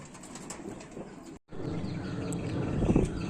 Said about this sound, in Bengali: এখন তোমার এক পিয়ার ম্যাড্রাস পায়রা ধরে নেওয়া হয়েছে